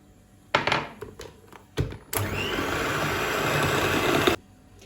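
An electric mixer whisks cake batter after milk and sunflower oil are poured in for cone cakes: a few close knocks, then a steady, loud whirring that runs for about two seconds and stops abruptly.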